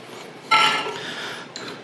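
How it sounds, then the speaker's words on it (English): Peanut butter scraped from a container into a bowl, a single close, sticky rasping scrape followed by a short clink. "Our peanut butter going into our bowl."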